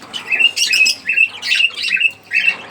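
Pet birds call over and over, about six sharp squawking bursts in quick succession, close and fairly loud, with brief gaps between them.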